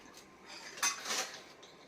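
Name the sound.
washing dishes, pots and utensils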